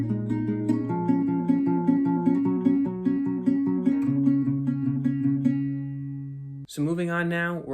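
Acoustic guitar plays a steady fingerpicked verse passage from a song, repeating two-string plucking figures across shifting notes with sustained ringing tones, close and clear, ending with a brief noisy burst and a voice starting to speak.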